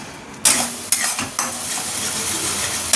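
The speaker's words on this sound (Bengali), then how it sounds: "এখানে মশলা কষা হচ্ছে আর এখানে আলুগুলো তো ভেজে রেখেছি" Masala spices fry in a pan for aloo dum, a loud, close sizzle punctuated by several sharp scrapes and clanks of a spatula stirring against the metal, with no talking.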